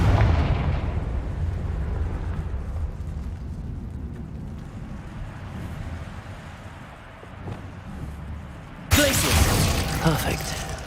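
A Confringo blast spell in the Hogwarts Legacy video game bursts with a booming, explosive roar that swells and decays, then erupts again sharply near the end, loud over continuous game ambience.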